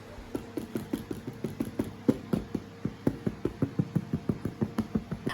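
Dry baked meringue tapped repeatedly on its underside, about twenty quick, dull knocks in an even rhythm, close and fairly soft, with no talking.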